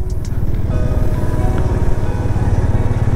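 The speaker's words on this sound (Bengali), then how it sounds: "আমাদের বাইকগুলো দেখো একদম আস্তে আস্তে স্লোলি মুভ করছে, সব র্যালি করে" Several motorcycles in a rally ride slowly along a tea-garden road in the Dooars, a steady low engine rumble running close and continuous with no talk.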